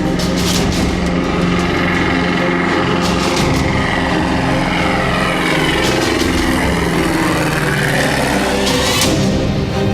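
A light bush plane's propeller engine drones loud and steady throughout as it departs toward a high Alpine landing strip in the Alaska mountains, with the pitch shifting slightly as it flies off.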